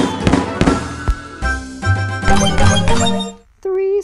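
Rockets burst in the Toon Blast mobile puzzle game: a rapid string of crackling pops and bright chiming effects over cheerful game music, ending abruptly in a short tonal jingle.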